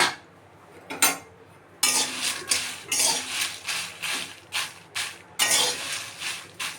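Dry red chillies are stirred in a pan, producing a run of scraping clatters from a utensil against the metal, each stroke a distinct rasp in an irregular rhythm, close and fairly loud, with no speech.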